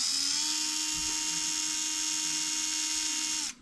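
A TRX4M K10 RC truck's electric motor held at full throttle, a steady high-pitched whine close by that runs evenly for over three seconds, then cuts off abruptly.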